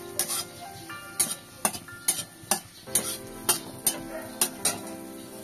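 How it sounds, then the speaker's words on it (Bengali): Dried red chillies tempering in hot oil in a Bengali home kitchen, a steady sizzle under a regular series of clanking spatula strokes against the pan, close and without talk. "শুকনো লঙ্কা ফোড়নে দিয়ে দেবো, একটুখানি নাড়াচাড়া করে নিই"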